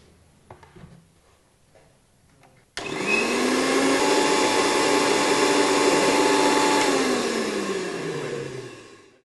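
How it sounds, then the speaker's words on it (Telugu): A kitchen mixer grinder runs on sesame seeds soaked in milk. After quiet handling sounds, the motor kicks in abruptly with a loud, steady whine and grinding roar that holds for several seconds, then winds down. "అరగంట ముందు పాలల్లో నానపెట్టుకున్న నువ్వుల్ని మిక్సీ చేసుకున్నాం కదా"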